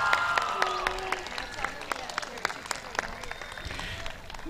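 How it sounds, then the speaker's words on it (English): An audience at a middle school culmination ceremony applauds the graduating class of 2022, scattered claps rising above a murmuring crowd with faint voices and some tonal background sounds, fairly distant and moderate in level. "Congratulations to the class of 2022. Let's give them a round of applause."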